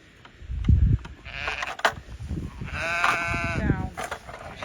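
A Herdwick lamb on a Lake District fell farm at lambing time bleats in wavering calls, clear and fairly close, mixed with rustling and handling noise.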